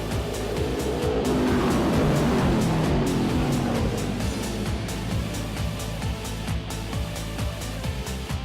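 Race cars roar side by side through turns 3 and 4 of an oval track at the Central Welding Supply 125, a loud, steady engine drone that continues throughout.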